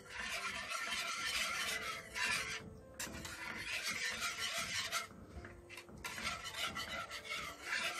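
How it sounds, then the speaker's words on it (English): Cornmeal being stirred into boiling water for Jamaican porridge gives a continuous raspy scraping and rubbing with short pauses, close and fairly steady throughout. "mixing out the cornmeal into the boiling water"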